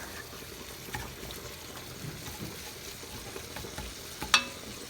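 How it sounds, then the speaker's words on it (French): Minced beef sizzling steadily in a hot frying pan for spaghetti bolognese, with a spoon scraping and stirring through it and one sharper clack of utensil on pan near the end. "Donc une fois que ça cuit sur les côtés, on va pouvoir mélanger notre viande hachée."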